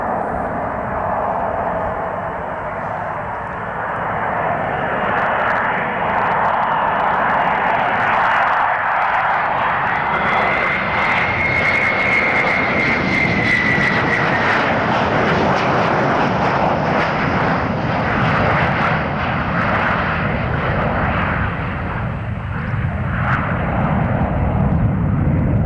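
A warbird flies at Shuttleworth, Old Warden, its piston engine drone loud and sustained for the whole stretch, swelling and shifting in pitch as it passes.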